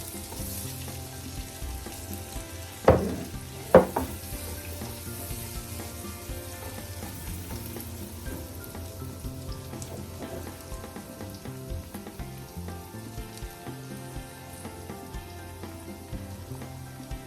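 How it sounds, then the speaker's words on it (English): Sweet pepper, tomato and thyme sautéing in a pan, a steady close sizzle with two sharp clatters early on, then continuous crackling frying with no speech. "We'll be leaving this to saute for another 2 minutes."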